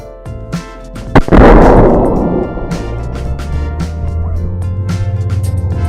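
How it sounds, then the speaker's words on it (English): A plastic bottle acid rocket bursts with a sudden loud bang about a second in, followed by a long hissing, spraying rush that slowly fades over a steady low background. "You can literally see the bottle inflating, about to blow up"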